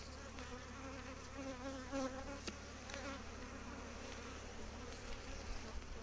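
A strong honeybee colony hums with a steady, dense buzz during hive work as a frame is inserted, a low continuous drone of many bees with no voices.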